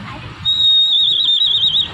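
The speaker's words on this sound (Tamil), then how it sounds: "சும்மா அப்படி ஊதம்போ ஒரு குருவிக்கு சவுண்டு" A water-filled bird whistle toy is blown at a shopping-area stall, giving a bright warbling sparrow-like trill that starts steady and breaks into rapid wavering chirps, loud and close, with chatter in the background.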